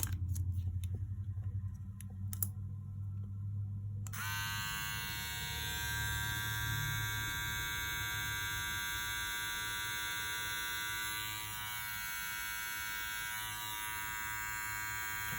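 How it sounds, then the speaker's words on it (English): A cheap cordless hair trimmer from Amazon switches on after a few handling clicks and runs with a steady, close, high-pitched electric buzz over a low hum for the rest of the clip. "And then this is the trimmer itself."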